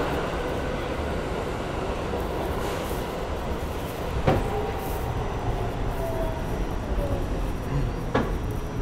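A New York subway R68 D train rumbling steadily along the tracks with a continuous roar, occasional metallic squeals and faint clacks.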